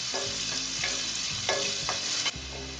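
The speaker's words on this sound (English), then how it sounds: "Cook this until the onions are light brown." Onions frying in a pan for an Indian ragda pattice street-food dish give a steady, close sizzle, broken by a few scraping stirs and clinks of the spoon.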